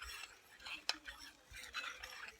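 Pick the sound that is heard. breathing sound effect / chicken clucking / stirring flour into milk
stirring flour into milk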